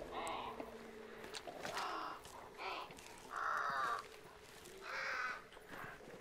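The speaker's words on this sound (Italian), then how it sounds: "Aspetta che forse li triggeriamo i corvi." Crows in the game Hunt Showdown, cawing in several harsh, separate calls of about half a second each, set apart by short gaps. The calls sound moderately near over a quiet outdoor background.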